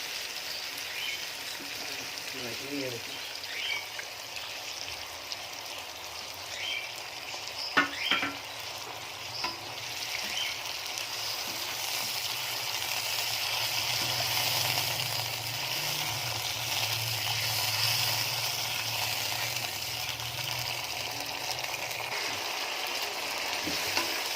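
Chicken fries in ghee as yogurt goes in for Kachnar chicken. A soft, continuous sizzle runs throughout, with a few brief utensil clinks and scrapes partway through, and no voices.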